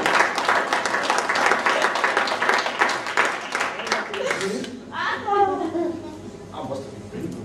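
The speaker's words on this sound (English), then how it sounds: "Give a round of applause." An audience gives a round of applause, dense clapping for several seconds that tapers off as a voice resumes speaking.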